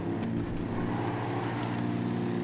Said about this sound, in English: I can hear that plane even more now.